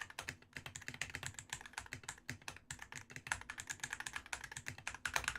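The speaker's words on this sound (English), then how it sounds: "I wouldn't say it was the best sounding keyboard out there" Rapid, irregular clatter of keys being typed on a computer keyboard, close and fairly quiet, with short bursts of keystrokes and brief pauses throughout.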